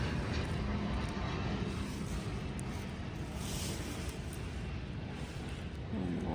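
Steady, loud low roar of airplanes passing overhead near a home, a continuous broad rumble that holds throughout with no pauses.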